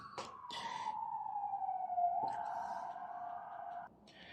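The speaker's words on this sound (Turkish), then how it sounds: "evet ambulans sesini duyuyorsunuz" A loud wailing ambulance siren sweeps in a long falling tone, close by, with a couple of brief clicks and bumps around it, fading abruptly near the end.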